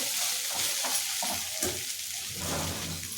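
Poha frying in a pan as it is stirred, a steady close sizzle with light scraping of the spoon running throughout, no talking.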